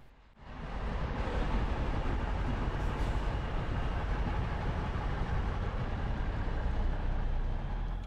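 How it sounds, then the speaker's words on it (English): A Michigan steam special train rolls past close by, a loud continuous roar of wheels and rumbling cars swelling in within the first second and holding steady throughout, with no voices. "As the train passes, we head on down the road passing through Elsie"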